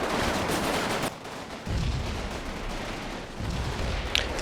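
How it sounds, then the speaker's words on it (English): Infantry small-arms gunfire in a Combat Mission World War II battle near Carentan, a steady crackling firefight of rapid shots with occasional louder bursts, continuous throughout. "my infantry putting some fire into them"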